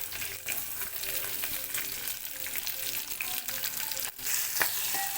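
Onion and green chili pieces, added after a few curry leaves, fry in a hot pan for a curry. A steady, close sizzle crackles throughout, with light stirring scrapes and no talking.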